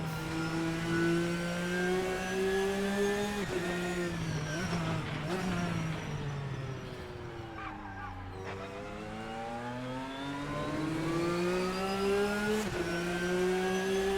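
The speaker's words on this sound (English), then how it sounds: "I'm loving the upshift sounds, though." A GTN race car from the RSS pack in the Assetto Corsa racing game revs hard and climbs through the gears, with several crisp upshifts breaking the rising engine note, loud and close throughout with no talk.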